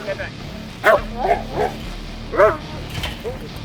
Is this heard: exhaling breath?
no